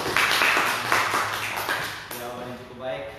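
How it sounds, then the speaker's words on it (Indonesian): Students in a faith-lesson class break into group clapping for a team that just presented, a dense burst of hand claps for about two seconds before a voice speaks over the fading end. "berikan tepuk tangan untuk kelompok 1"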